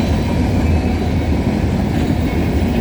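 Freight train rolling past at night beside the Cobourg VIA station in Ontario, a loud close, continuous rumble of wagons with steady wheel clatter on the rails and no pause.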